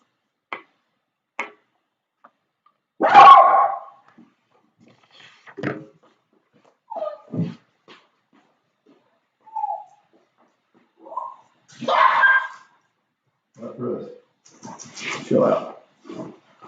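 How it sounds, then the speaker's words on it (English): A dog at home gives a few short, sharp barks and whimpers in scattered bursts, with quiet gaps and some ticking between them. "My dog's going crazy."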